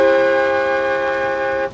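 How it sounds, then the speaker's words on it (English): A single long, loud car horn honk, steady and unbroken, cutting off abruptly at the end. "shows up and honks his horn"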